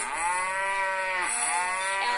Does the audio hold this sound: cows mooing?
yes